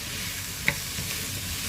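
Courgettes and eggs sizzle softly in a frying pan with a faint steady hiss, and a single brief scrape of stirring comes partway through.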